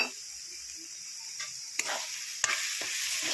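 Prawns and taro flowers being stirred and fried dry in a pan, a bright steady sizzle with a couple of sharp spatula scrapes, close and alone.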